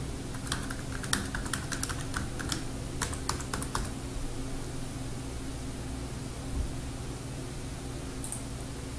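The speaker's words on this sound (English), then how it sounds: "Type in your username" Rapid keystrokes on a computer keyboard while logging in to a forum account, a dense burst of clicks in the first four seconds over steady room hiss, then quieter with a few final taps.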